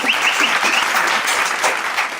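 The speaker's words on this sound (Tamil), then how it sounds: "கைத்தட்டு" A short burst of loud, close clapping from an audience during a Tamil entertainment show, dense and steady for a couple of seconds.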